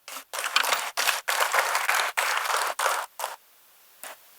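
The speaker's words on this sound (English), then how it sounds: "Let us welcome her with a huge round of applause." A lecture-hall audience at a liberal arts university event gives a loud, close round of applause in several dense bursts with brief gaps, the clapping thinning to a few scattered claps before it fades.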